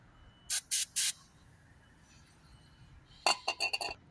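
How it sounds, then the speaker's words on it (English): Three short sprays of aerosol lubricant onto suspension bolts of a Citroën C4 hiss out in quick succession, then a pause, followed by a longer burst broken into several rapid spurts, close and loud. "I'm going to spray the drop link bolt here as well"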